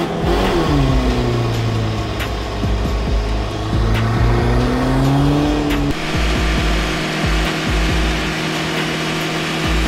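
A car engine runs and revs hard during a brake-burning test, with a rising and falling drone that climbs in pitch, briefly cuts out, then settles into a steady, loud idle-rev roar up close.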